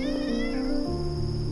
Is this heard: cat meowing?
yes